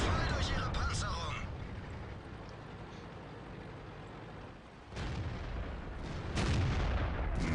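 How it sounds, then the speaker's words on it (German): A 122 mm tank cannon on an IS-3 fires in World of Tanks: heavy booming blasts and rumbling battle noise over a dense, continuous background, with louder bursts near the start and the end. "Das ist eine 122 mm Kanone. Ja, die macht hier schon Löcher."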